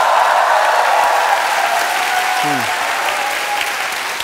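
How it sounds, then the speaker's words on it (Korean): Studio audience at a KBS Gag Concert comedy show clapping, dense loud applause that continues steadily and fades slightly toward the end. "박수 한번 주세요"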